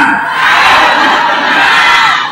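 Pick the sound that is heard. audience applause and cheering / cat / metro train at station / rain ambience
audience applause and cheering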